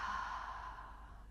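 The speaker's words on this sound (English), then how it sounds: "Nice deep inhale, nice deep exhale." A slow, deep breath drawn in and let out during a yoga sculpt session, a soft airy rush of steady breathing, close and fairly quiet, fading gently toward the end with no talk over it.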